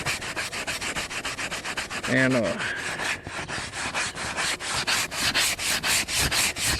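Sanding a brain-tanned buckskin hide produces continuous rhythmic scraping strokes, loud and close. A voice briefly says a word partway through.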